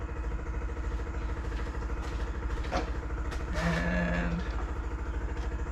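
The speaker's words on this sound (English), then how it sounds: "I still hear fuel pump." A 1963 Corvair engine runs with fuel pump noise, a steady, fast-pulsing idle that stays even throughout. A brief clatter and a short tonal whine rise above it partway through.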